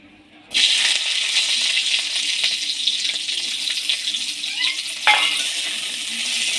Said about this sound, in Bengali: ওই তেলের মধ্যে আমি আগে থেকে দুটো টমেটো আর তিনটে কাঁচা লঙ্কা কেটে রেখেছিলাম ওটা দিয়ে দেব